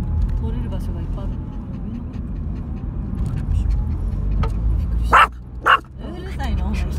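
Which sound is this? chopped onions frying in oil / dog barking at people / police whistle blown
dog barking at people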